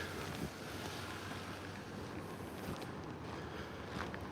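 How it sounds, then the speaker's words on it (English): Strong wind after Hurricane Milton at Walt Disney World rushes past outdoors as a steady, loud broadband roar with slight gusting swells and microphone buffeting, with no talk. "Wind coming across here."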